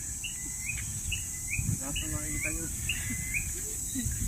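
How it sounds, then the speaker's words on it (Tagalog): Small birds chirp and tweet in short repeated calls over a steady insect buzz outdoors in the countryside of the Philippines, with faint low background noise. "Narinig nyo yung mga huni ng ibon?"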